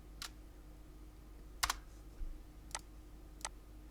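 Sparse keystrokes on a computer keyboard while text is typed into Canva: four separate clicks spread out, one a quick double tap, close and clear over a quiet steady room hum.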